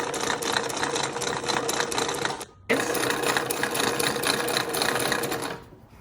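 Sewing machine zigzag-stitching down an ironed fabric edge to form a seam on a cloth face mask with ties. The motor whirs steadily and close, with one brief stop partway through before the stitching resumes and then trails off.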